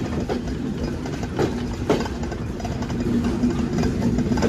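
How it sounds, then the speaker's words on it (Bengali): The Rupsha Express pulls into Jessore Junction with a loud, continuous rumble of engine and wheels, broken by a few sharp clanks and rattles from the rail cars. "আন্দনগর রূপসা এক্সপ্রেস তার যে নির্ধারিত সময় সে সময় থেকে দুই মিনিট আগেই প্রবেশ করলো এই যশোর জাংশনে"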